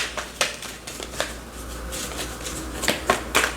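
Tarot cards being shuffled by hand in quick repeated riffles and slides, a crisp papery flutter that rises in several bursts over a steady faint background hum, with no talking.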